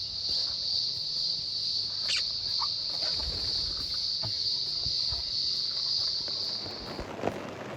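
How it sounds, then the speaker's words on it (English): Birds crowd around a campsite amid a steady high insect-like drone, with scattered chirps and calls near and far, and some faint rustling and knocks underneath. "and the birds just come from everywhere"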